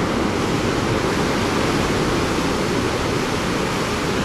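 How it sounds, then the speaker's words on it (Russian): Loud, continuous roar of large sea waves crashing and surging nearby at a seafront promenade in Alanya, Turkey, a dense wash of noise with no pauses. "вот те вот большие волны, они сейчас придут сюда"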